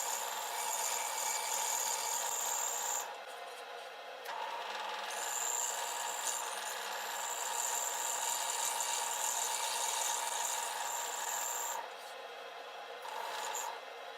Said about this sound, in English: I'll simply take it over to my scroll saw and then cut out the notch on that piece of wood.